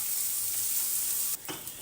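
Red onion and garlic sautéing in a very hot pan give a steady, loud, bright sizzle. The sizzle dips briefly near the end as the food is shifted or stirred, then carries on.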